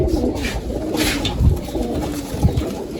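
Pigeons in a loft coo in soft, throaty bursts, several birds close by, with low repeated calls rising over a busy background of rustling and shuffling.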